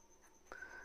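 A pen scratches a math equation onto paper, a faint short stroke of writing close up in an otherwise quiet room.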